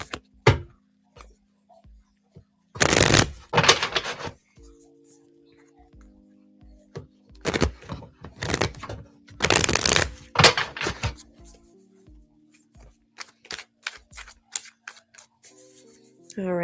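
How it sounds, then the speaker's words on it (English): Tarot cards being shuffled in several brisk bursts, crisp riffling and flapping close to the mic, separated by pauses with faint rustling and quiet talk in between. "we're just gonna shuffle a few more times"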